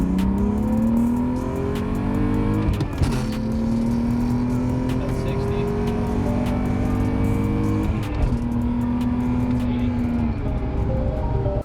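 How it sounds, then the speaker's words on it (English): A BMW E46 engine with an aftermarket intake revs hard through rising gears, pitch climbing then dropping at each shift, loud and close throughout. "we're gonna go do some pulls real quick and kind of see how the car feels"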